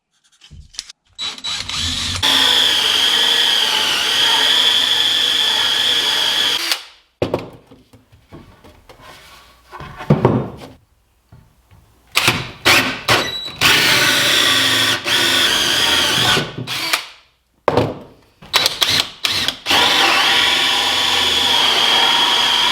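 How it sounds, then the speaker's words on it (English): A power drill whines loudly boring through a wood board in long bursts, stopping and restarting several times with short pauses and clunks between runs. "my drill bits all the way through the board."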